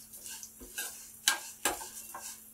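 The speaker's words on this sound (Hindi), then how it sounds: "अब हम इन दोनों दालों को हल्की गैस पर अच्छे से भूनेंगे जब तक कि ये हल्की गुलाबी ना हो जाए।" Two kinds of lentils dry roasting in a pan over a low flame while being stirred for homemade sambar masala; a handful of soft, dry scrapes and rattles come in uneven strokes, with two sharper clacks standing out against quiet background.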